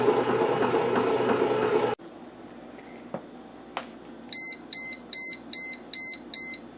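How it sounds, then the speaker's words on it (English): A Cuisinart CBK-200 convection bread maker emits a series of six short, evenly spaced electronic beeps, clear and close, following a burst of noise and a few clunks. "Okay, now the machine is beeping. It just did 3 sets of 6 beeps."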